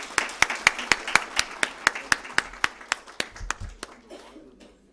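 At a formal milestone event, a single person's hands clap slowly and evenly, about twenty crisp distinct claps close by, tapering off with a brief low murmur near the end.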